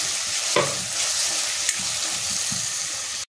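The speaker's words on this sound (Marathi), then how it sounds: "कांद्याला सोनेरी रंग आलेला आहे, त्याच्यामध्ये आपण एक टोमॅटो टाकून घ्यायचे, ते सुद्धा आपल्याला परतून घ्यायचे।" Onion and tomato sauté in a pan, giving a continuous close sizzle with a few scraping stirs. The sound ends abruptly and no one speaks.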